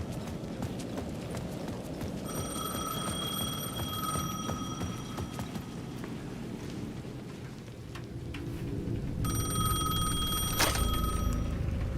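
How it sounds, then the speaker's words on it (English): Payphone ringing in the video game Alan Wake II, repeated bursts of an electronic bell ring in two spells over a steady rumbling, rainy game ambience. "The payphone at the edge of the plaza was ringing again."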